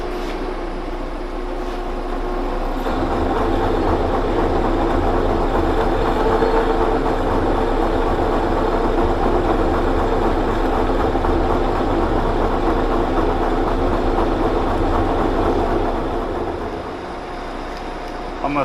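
A boring bar cuts inside a Kop Flex shaft coupling on a lathe, a steady loud mechanical drone with a rough grinding texture that holds for about fifteen seconds before easing off.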